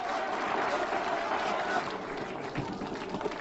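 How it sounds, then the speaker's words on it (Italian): A film-scene audience bursts into sustained applause, a steady wash of clapping with crowd noise that softens slightly toward the end. "Due minuti di applausi!"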